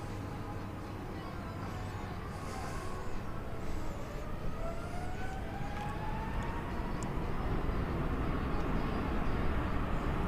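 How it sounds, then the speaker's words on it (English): A United Boeing 777 airliner on final approach at Seoul Incheon Airport, a steady distant jet roar that slowly rises in pitch and grows louder over background rumble. "the United aircraft is circling around on final approach"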